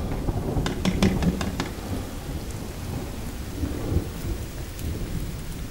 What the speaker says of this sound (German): Jetzt fängt sie noch an zu gewittern.